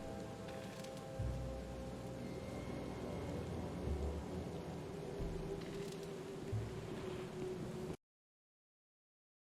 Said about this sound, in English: I just like that we're getting a legitimate thunderstorm.